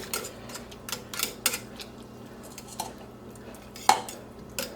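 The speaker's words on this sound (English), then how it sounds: "a tablespoon of miso into a ladle. And put the ladle in the hot liquid here." A ladle holding a spoonful of miso clinks against a metal pot of hot liquid, with several short, light metallic taps and scrapes spread unevenly, fairly close and fairly quiet, and no talking.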